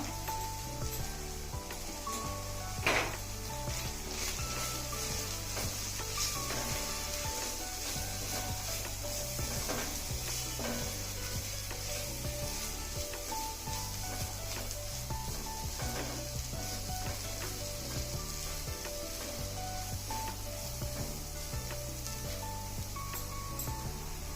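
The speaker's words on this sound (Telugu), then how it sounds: "ఇందాక మనం రెడీ చేసుకున్న పౌడర్ని ఇందులో వేసి వేగనిద్దాం" Homemade spice powder fries with ginger garlic paste in a pan for a chicken curry, giving a steady continuous sizzle with occasional scraping and stirring sounds throughout, with no talking.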